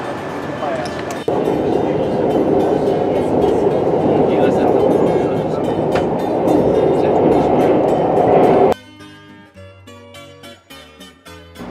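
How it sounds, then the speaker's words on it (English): Loud rumbling train noise with rattling from the rails for several seconds, on a ride from Porto toward Coimbra, Portugal, then it drops away to quieter sounds with faint talk. "here we are in the Porto train station heading off to"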